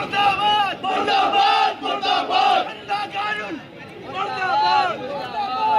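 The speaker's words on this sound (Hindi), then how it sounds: "जिस तरह से गुस्से में आकर लोगों ने प्रदर्शन किया, नारेबाजी की और इकट्ठा हुए लोग यहां पर जमकर प्रदर्शन किया गया" An angry crowd of protesters chants and shouts slogans together in loud, continuous waves of massed voices, rising and falling with overlapping yells throughout.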